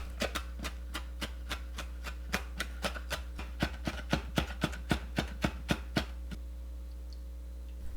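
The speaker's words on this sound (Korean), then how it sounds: "파와 고추 2개를 썰어 주세요" A knife chopping green onion and chili peppers on a cutting board, a steady series of sharp, close taps at an even rhythm that stops near the end, over a constant low electrical hum.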